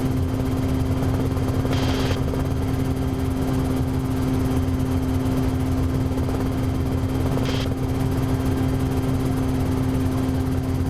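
Inside a small propeller aircraft cruising near 100 mph, a loud, constant engine drone blends with a steady wash of wind noise, unbroken by speech.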